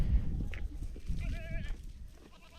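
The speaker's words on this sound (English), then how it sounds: "I got a little goat here that is a pain." A small goat gives a short, wavering bleat midway, close and fairly clear, set against low rumbling handling noise and faint background sounds.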